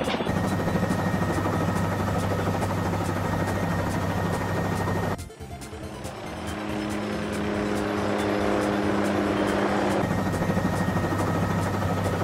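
A cartoon helicopter whirs loudly and steadily with a droning rotor hum. The sound dips briefly partway through before the continuous buzz returns at full strength.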